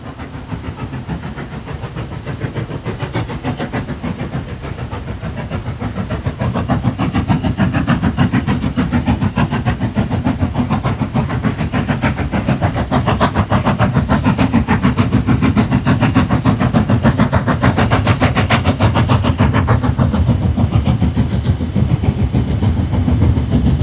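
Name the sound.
steam locomotive 841 climbing a gradient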